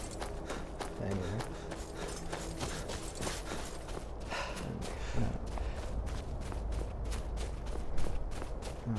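Shadowmere, a horse in the video game Skyrim, trots with steady, even hoofbeats clip-clopping throughout, while someone talks over the game sounds.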